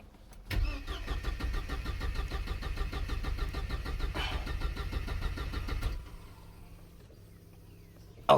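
A Mercedes W124 engine, freshly converted to electronic fuel injection, cranks and fires up, running loud and steady for about five seconds before cutting out, followed by near-quiet and a sharp click at the end.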